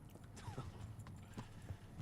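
Horse hooves clip-clopping in the Kingdom Come: Deliverance video game, a steady run of soft, close hoof clops with a faint whinny-like tone and light game ambience behind.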